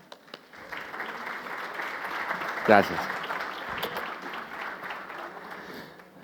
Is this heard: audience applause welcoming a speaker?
yes